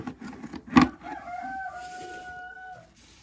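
Hens kept at a country dacha clucking, with a sharp loud squawk early on and a drawn-out tonal call afterwards, heard alone without talk.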